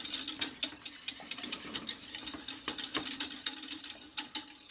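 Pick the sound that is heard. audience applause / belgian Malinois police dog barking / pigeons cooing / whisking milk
whisking milk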